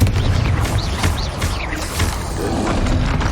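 The Confringo blasting spell in Hogwarts Legacy explodes with a dense roaring boom, rumbling and crackling continuously with whooshing magical swirls on top.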